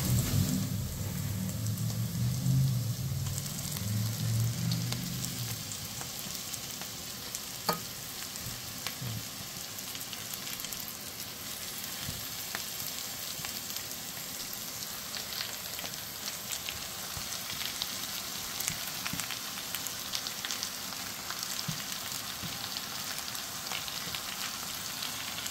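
Goat meat added to browned onions in a hot pan and frying, with a brief louder low sputter at first, then a steady, even sizzling hiss that carries on unbroken.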